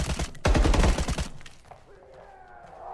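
Burst of gunfire from the survival shooter The Day Before, a dense volley of rapid shots in the first half that fades into a quieter ambient tail with a faint whistling tone.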